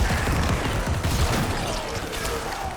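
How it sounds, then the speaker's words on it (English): Corpse explosions from a Diablo IV necromancer build, a continuous dense rumble of blasts and crackling impacts with no clear gaps, loud and busy throughout. "just blowing up mobs, basically exploding corpses"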